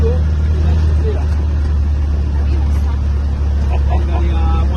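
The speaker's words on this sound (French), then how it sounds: "Le moteur ça tourne vite hein, quand même." A 1000 cc vehicle driving on a beach, its engine humming fast and steady in a loud, low continuous drone, with people talking faintly over it.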